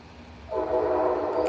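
A train passes outside at night in an urban setting, its steady rumbling rail noise rising suddenly and holding loud and close, with no talk over it.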